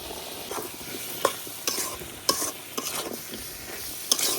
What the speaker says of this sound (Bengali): এখন আলুর সাথে মশলাটা ভালো করে একটু কষাই নিলাম